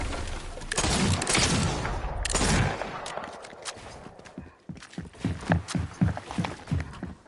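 Video game gunfire with a sniper rifle, a burst of loud noisy blasts early on, then a string of short sharp cracks and clicks in irregular rhythm toward the end.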